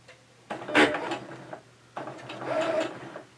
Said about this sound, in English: I pinned it all the way around and now I'm just going to stitch it.